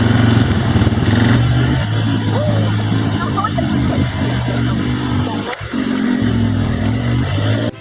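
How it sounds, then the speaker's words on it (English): An ATV drives along a beach in Costa Rica, a steady engine drone with shifting pitch running throughout, heard up close under speech. "Right now we're on an ATV and Mom is driving me"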